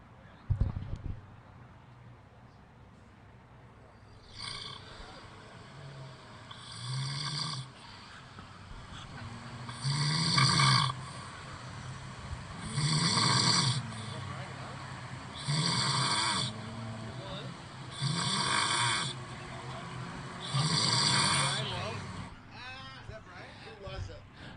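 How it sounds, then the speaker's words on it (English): Recording of a man snoring played back over a loudspeaker at a 5th-scale racing event: a long run of slow, rhythmic snores, each a rasping breath repeated about every three seconds, with a brief sharp noise at the start. "one of our guys freaking snoring in there"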